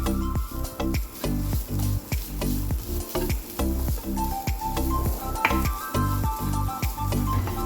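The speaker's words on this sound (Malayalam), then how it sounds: "എല്ലാം ഒന്ന് ഫ്രൈ ആവുമല്ലോ ഉള്ളിയും മുളകും കരുവേപ്പില തേങ്ങ എല്ലാം" Onion, chili, curry leaves and grated coconut fry together in a pan, with a steady close sizzle broken by rhythmic scraping and stirring strokes of a spoon against the pan, running continuously with no talk.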